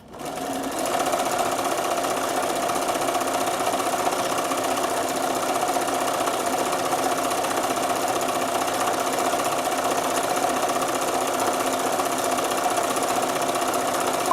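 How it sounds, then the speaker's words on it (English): A sewing machine stitches a continuous row, running with a steady, even whir and buzz from start to finish, close and alone. "I'll do a row of stitching, and we will do number 98"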